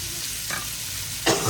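Beef, peppers and onion stir-frying in a hot pan make a loud, continuous sizzle, with two brief bursts of scraping and tossing as the food is stirred; no one speaks.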